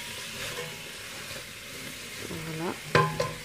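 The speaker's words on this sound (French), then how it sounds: "On va bien mélanger." Onions with cinnamon sticks being stirred in a pan for tfaya: a low, steady sizzle with soft scraping, ending in a brief louder clatter near the end.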